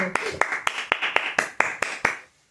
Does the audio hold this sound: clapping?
yes